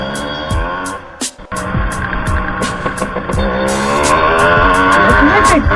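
A Yamaha RX135 two-stroke motorcycle revving hard on a road, close and loud, its buzzing engine climbing repeatedly through the gears with sharp crackling pops and a brief drop in the middle before pulling strongly again.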